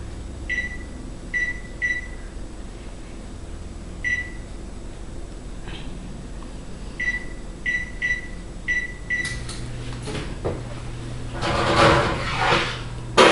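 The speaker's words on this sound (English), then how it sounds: "I'm gonna preheat my oven at 350 degrees." Setting an oven to preheat at 350 degrees for homemade pizza: a series of short electronic beeps from the control panel, then clunks and rattling as a door or cupboard is handled, with no talking.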